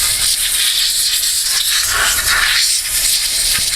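Compressed air blasts dirt out of a linear rail on a Tajima TEJTC1501 embroidery machine, with a loud, continuous hiss that holds steady for several seconds.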